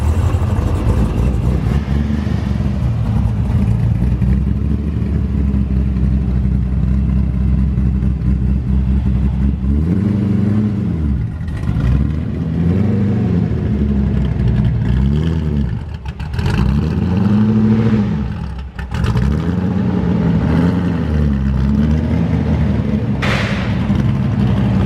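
Chevrolet Corvette C6 Z06 on a dyno: a deep idle rumble builds into several loud, sweeping revs that rise and fall in quick succession, with brief lifts and thumps between pulls.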